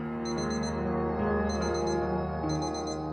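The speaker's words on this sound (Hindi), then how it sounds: "प्लीज अलार्म बंद कर दो।" An alarm clock going off in a home drama scene at dawn prayer time, with three separate clusters of rapid high beeps over a steady underlying hum, and no voices present.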